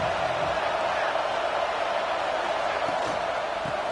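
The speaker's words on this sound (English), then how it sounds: "this crowd is turning it up a notch" A college football stadium crowd at a UCLA game roars in a dense, steady wall of noise that holds loud and even throughout.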